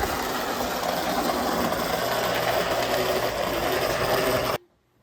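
A small electric motor in an AHM C-Liner model locomotive whirs steadily with a rough, buzzy rattle, fairly close and constant, then cuts off abruptly near the end.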